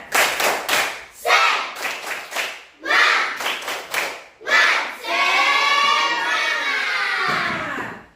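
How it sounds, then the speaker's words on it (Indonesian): A class performs a rhythmic spirit clap before a lesson, tight group claps in patterned bursts with pauses, then children shout together in a long chanted cry, loud and close. "ayo kita melakukan tepuk semangat dulu sebelum memulai pembelajaran kita"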